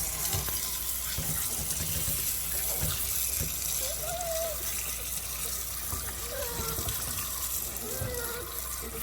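Water runs steadily from a tap or hose while dogs are rinsed during a bath, a constant splashing hiss with faint voices and a few short whines over it.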